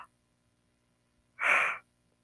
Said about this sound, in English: You're going to hear me yawning, but I'm not falling asleep on you.